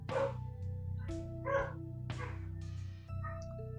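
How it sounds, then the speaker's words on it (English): Dogs barking inside a house, several sharp barks in a loose irregular series, fairly close and loud, with some whimpery yips between. "Now, my dogs are barking."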